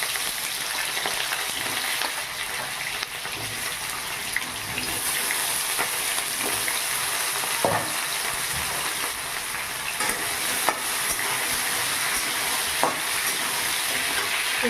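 Potatoes fry in hot mustard oil, giving a loud, dense, continuous sizzle close up with scattered clicks and scrapes of stirring, and no voices.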